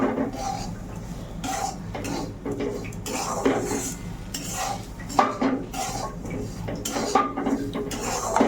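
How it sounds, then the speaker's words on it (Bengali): A spoon stirs semolina in a pan after spices have been fried, scraping and clinking against the metal in a steady, continuous rhythm, close and moderately quiet, with no talking. "এখন সুজিটা দিয়ে দেব এবার একভাবে নাড়তে হবে"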